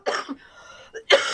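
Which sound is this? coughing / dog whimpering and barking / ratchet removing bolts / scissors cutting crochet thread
coughing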